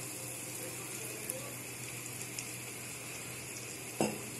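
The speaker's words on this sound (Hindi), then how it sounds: "अब हम इसमें थोड़ा सा पानी डालते हैं" Water poured into frying masala in a pan for shahi paneer, a faint steady sizzle with a brief splash or clink near the end, close and quiet with no voices.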